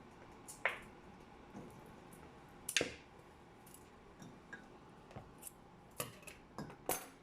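Quiet, sparse snips of scissors, a few sharp clicks spaced irregularly, close by with soft rustling between them.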